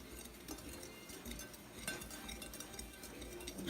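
Homemade organic toothpaste ingredients whisked in a bowl, faint quiet clinking and scraping of a utensil against the dish in an irregular rhythm, close by with no talking.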